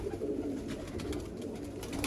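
Teddy pigeons coo softly and repeatedly in a loft, a low, throaty murmur that runs continuously and sounds close by.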